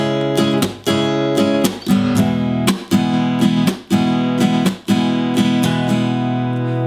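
Acoustic guitar strummed in a pop pattern with percussive muted chucks, bright ringing chords broken by sharp rhythmic muted hits at a steady tempo, played solo and close.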